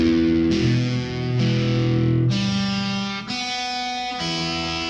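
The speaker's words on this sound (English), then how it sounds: "I'm going to play the notes separately first." An electric guitar played through distortion and effects sounds one chord's notes one at a time, six sustained plucked tones in slow succession, each ringing clearly on its own.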